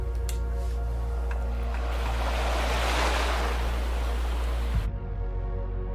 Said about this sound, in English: As if in a trance, I seem to hear the sound of waves again.